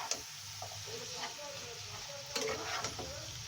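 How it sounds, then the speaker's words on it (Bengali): Bottle gourd shoots sizzle in a frying pan as spices are stirred and mixed through, with repeated scraping and light clinks of the spoon against the pan over a constant crackle, up close. "এপাশ ওপাশ করে ভালো করে মশলাটা মেখে দিচ্ছি"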